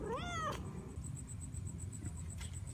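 A cat gives one short, rising-and-falling meow at the start, then only quiet background noise remains.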